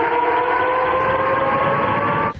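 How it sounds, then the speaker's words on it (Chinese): Air raid siren sounding in Belgorod, Russia: a loud, steady wailing tone held throughout, alone with no voices, cutting off abruptly at the end. "周末又响起空袭警报"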